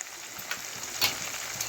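Turmeric tempering with urad dal and chana dal frying in hot oil in a pan, a steady soft sizzle with a couple of brief louder crackles, close and alone with no talk.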